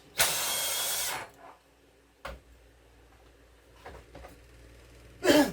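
An impact wrench with a 14mm socket works on a Mountfield SP536 lawn mower, giving a loud one-second burst, a few brief taps and clanks, then a second short burst at the end.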